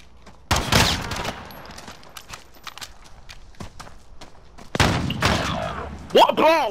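Gunfire in a video game, a few loud close shots in short clusters separated by quieter stretches of footsteps and movement, with a voice speaking briefly near the end.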